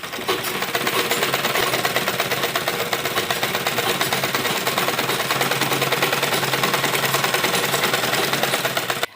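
A sewing machine runs steadily while stitching a lined embroidered suit, a dense, continuous mechanical whir with rapid even needle ticking, close and loud, with no voices.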